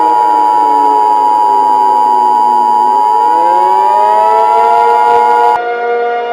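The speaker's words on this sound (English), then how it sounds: "This is a national emergency." An emergency alert system siren tone blares loudly and steadily, a pure electronic wail that bends downward then sweeps back up before cutting off abruptly, alone with no talk.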